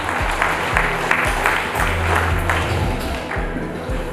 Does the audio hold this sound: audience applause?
yes